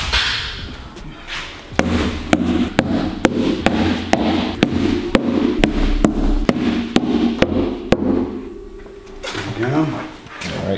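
Silicone replacement bungs are knocked into the bung holes of whiskey casks, producing a rapid series of sharp, evenly spaced thuds at close range, with people talking faintly in the background.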